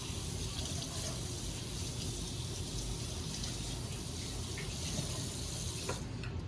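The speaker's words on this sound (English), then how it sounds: "I'm gonna wash my hands." Hands rinsed under a running kitchen tap after handling chicken livers, a steady, fairly quiet rush of water with small splashes, ending abruptly.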